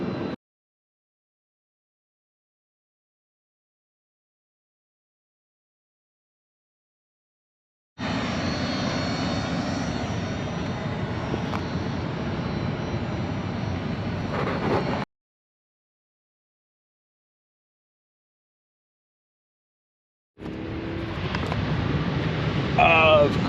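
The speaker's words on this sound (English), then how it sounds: "Of course, I got a big jet landing." A big American Airlines jet landing nearby gives a loud, broad engine roar in two separate stretches split by silence, with a voice faintly under the noise toward the end.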